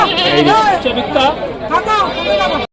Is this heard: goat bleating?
yes